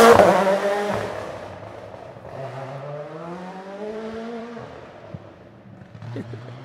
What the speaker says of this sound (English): They are outrageously noisy, these cars.